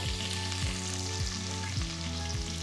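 Thinly sliced small onions frying with mustard seeds in hot oil, a continuous fizzing sizzle with soft periodic stirring strokes, close and steady with no talking.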